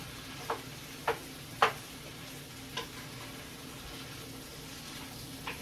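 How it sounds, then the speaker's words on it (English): Onions frying in a pan while being stirred and broken up, a quiet steady sizzle with a few light scraping taps from the utensil spaced irregularly. "What I'm doing now is just making sure I break up all the onions up that I cut up in here"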